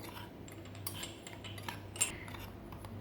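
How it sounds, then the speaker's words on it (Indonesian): Sugar and yeast stirred in a bowl produce light, quiet scraping and ticking clinks of a utensil against the bowl, soft and irregular. "yang pertama-tama itu kita masukkan gula pasir dan ragi. Kita aduk."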